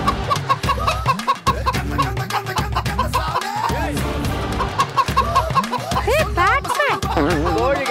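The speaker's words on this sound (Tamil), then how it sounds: "இது கோழியாடா இது? ஐயா பொட்டை கோழி." A hen clucks in repeated bursts on a TV cooking competition set, close and fairly loud, while people talk over it.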